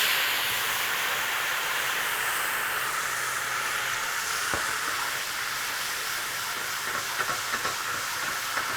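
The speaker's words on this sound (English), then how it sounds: "We're going to go in and deglaze with 200 mils of vermouth." A very hot pan hisses steadily as 200 ml of vermouth goes in to deglaze it, a continuous broad sizzle of steam with a faint clink or two near the end.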